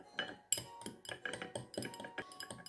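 Homemade rose face cream being stirred in a container: quiet, repeated clinks and scrapes of a utensil against the vessel in an uneven rhythm, close by.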